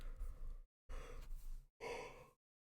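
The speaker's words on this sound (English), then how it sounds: "Sorry I'm yawning so much" Three long, breathy exhalations from a tired person yawning, each a drawn-out airy sigh with a brief silence between them, close and quiet.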